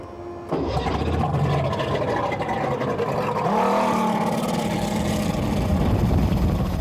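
A racing powerboat engine on a lake starts abruptly and settles into a loud rumbling idle, then revs up with a rising whine, close by.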